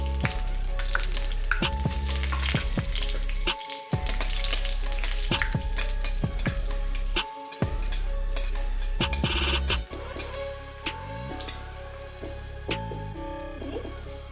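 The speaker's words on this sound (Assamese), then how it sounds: "দুটা শুকান জলকীয়া, দুটা তেজপাত চিঙি লৈছোঁ, আৰু অলপমান পাঁচফোৰণ মই দি ল'ম তেলত।" Dried chillies, bay leaves and panch phoron crackle in hot oil while tempering a fish curry, making a loud, continuous sizzle full of sharp pops and spits with a few brief dips.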